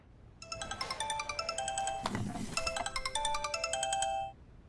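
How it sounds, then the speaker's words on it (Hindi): A phone ringtone chimes a bright repeating melody of quick electronic tones for several seconds, with a brief rustle in the middle, then cuts off; no talk over it. "सॉरी, कवल का फोन है"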